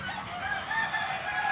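Broiler chickens bred for fast growth, crowded in a chicken shed, crowing and clucking in a continuous close chorus with no talk.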